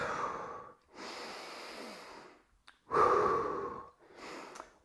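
Slow deep breaths during gym stretching: two long inhale-exhale cycles, close and clear, each breath a broad airy rush separated by short pauses, with no talking.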